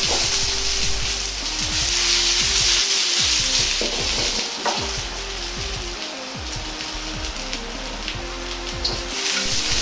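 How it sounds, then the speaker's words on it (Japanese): Eggplant pieces frying in oil in a pan for mapo eggplant, left mostly unstirred, with a steady close sizzle and crackle throughout and occasional light clinks or pan movement. "ナスを入れたら、はじめはそのままあまり動かさずに焼いていきます"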